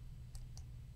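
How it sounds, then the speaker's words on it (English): Two quick, faint mouse clicks sound over a low steady hum as a save command is selected on a computer. "I'm going to click save"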